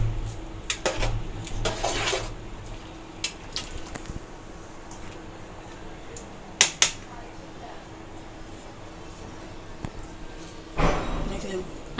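A metal spoon scrapes and clatters in a pot of biryani, with intermittent knocks and bursts of stirring over a steady background hum, while people talk nearby.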